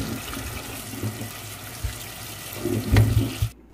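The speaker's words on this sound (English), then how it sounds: "First, I'm gonna wash the sweet potato." Running tap water at a kitchen sink while a sweet potato is washed, a steady broadband splash with small knocks and handling bumps, fairly close and continuous before stopping abruptly near the end.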